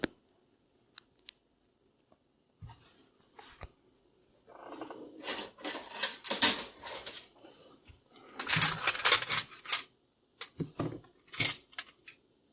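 Plastic parts of an HP Deskjet F4210 printer being fitted back together after a glued power-button repair: scattered sharp clicks, snaps and rattling handling noises in irregular bursts, close up, with no talking.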